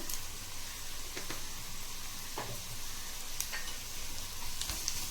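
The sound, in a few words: Everest hing (asafoetida) added to pan, sizzling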